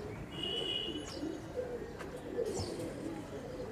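A Pakistani Teddy pigeon, a banded high-flyer, cooing in a soft continuous rolling murmur nearby, with a few faint chirps from other birds in the background.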